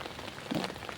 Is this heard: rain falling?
yes